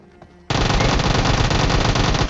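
A loud, sustained burst of automatic gunfire from the mobile game PUBG Mobile starts abruptly after a quiet moment and rattles on continuously, close and harsh.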